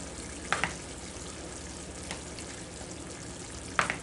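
Browned beef and jarred sauce are stirred together in a pan over a soft, steady simmering hiss, with a few sharp spoon clinks against the pan near the start and end.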